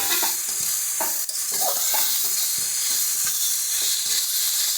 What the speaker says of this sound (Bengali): মশলার সঙ্গে চিকেনটা দিয়ে দিলে এটা ভালো মতন কষে যাবে